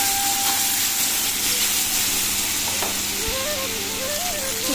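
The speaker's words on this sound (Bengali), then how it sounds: "সামান্য একটু তেলের মধ্যে নেড়ে নিলাম" Eggplant frying in a little oil with steady hiss and sizzle, stirred now and then, for a potato-eggplant hilsa fish curry; the crackle holds close and even, with a faint tonal line running underneath.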